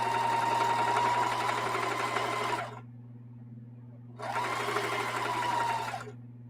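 Sewing machine stitching quilt strips with a 2.5 mm stitch length and a quarter-inch seam, two steady whirring runs separated by a short pause, close and fairly loud with a low hum beneath.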